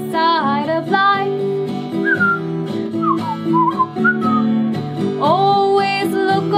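Melodic whistling carries a cover of a song over steady accompaniment, with clear, close, loud tones sliding between pitches in a cheerful phrase.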